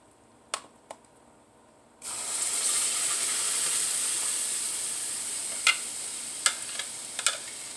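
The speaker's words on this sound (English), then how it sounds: "I'm just going to heat it up in the frying pan here" Pea soup sizzling as it heats in a frying pan: a steady close hiss and bubble starts abruptly after two seconds of near-quiet, with a few faint clicks and taps over the sizzle.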